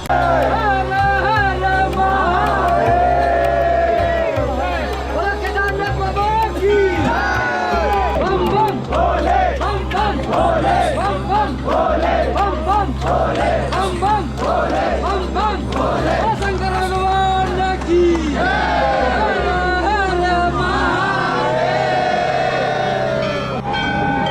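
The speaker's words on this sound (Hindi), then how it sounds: "बहुत ज़्यादा भीड़ है, लोग फ़ोटो खिंचाने में लगे हैं" A large crowd of pilgrims packs the grounds of Kedarnath temple, a steady, loud murmur of many voices with shouts and chanting rising over it, heard close by throughout.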